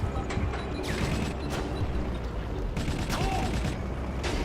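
Battlefield Vietnam combat with weapons firing in scattered bursts and distant impacts, a busy, steady rattle of battle noise without speech.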